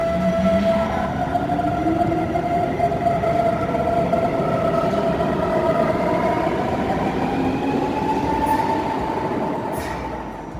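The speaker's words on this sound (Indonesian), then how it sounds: "sekarang aku udah di kereta menuju Erding" Inside a moving train on the way to Erding, Germany, a constant loud rolling rumble carries whining tones that slowly glide up and down, with faint clicks near the end as the noise eases slightly.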